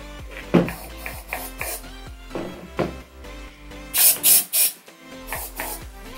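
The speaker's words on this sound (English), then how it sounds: "spray it up in the shoe" Short, hissing bursts from an aerosol disinfectant spray sprayed into a Nike Air Force 1 Low sneaker, two or three quick puffs close by, with faint handling noises before and after.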